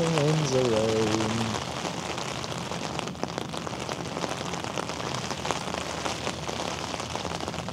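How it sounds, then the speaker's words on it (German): Steady rain falling and pattering on surfaces, a constant dense hiss throughout, with a brief sung tune at the start. "Das bringt uns auch nichts, wenn noch 50 Minuten Regen ist."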